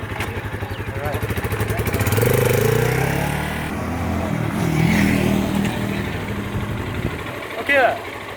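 A Demak scrambler motorcycle engine runs on a ride, idling and then revving up and easing off in swells. Voices talk over it now and then, and a brief sharper burst comes near the end.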